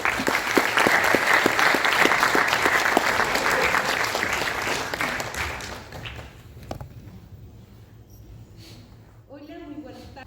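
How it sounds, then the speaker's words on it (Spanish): A crowd claps for a confederation of bank unions' president at a collective bargaining event, dense applause for about six seconds before thinning out into quieter room sound. "Un aplauso, por favor."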